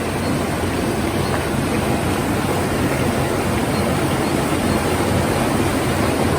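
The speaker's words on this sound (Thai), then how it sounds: "น้ำไหลแรงมาก" Water flows hard and fast, a dense rushing roar that is close and loud, holding steady throughout with no voices over it.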